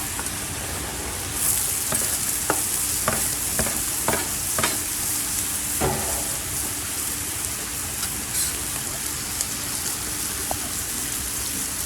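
Onions and peppers frying on a Blackstone griddle outdoors, a loud continuous rain-like sizzle throughout with a series of sharp spatula taps and scrapes near the start.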